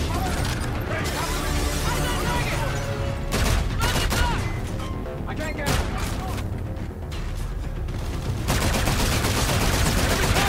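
Rapid bursts of futuristic gunfire from Call of Duty: Infinite Warfare, dense and loud, with booms and mechanical clatter filling the whole stretch, broken by a short lull before firing resumes.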